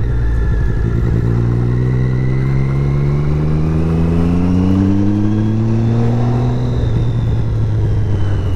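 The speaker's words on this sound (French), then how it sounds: "Même là en deuxième, elle reprend vraiment très très bien cette moto." A Triumph Street Triple 675 RX roadster pulls hard in second gear, its engine note climbing steadily and loudly over several seconds with road rumble, heard up close from the rider's position.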